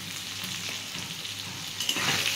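Spices with chili powder, turmeric and salt frying in hot oil, a steady close sizzle with crackle that swells briefly louder toward the end as they are stirred.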